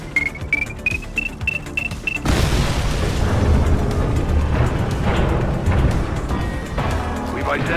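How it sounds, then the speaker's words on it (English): A heavy explosion in The Precinct police video game on PS5 bursts in abruptly after a rising alarm tone, leaving a loud, dense roar that rolls on and slowly fades. "We may not have the time to stop the explosion."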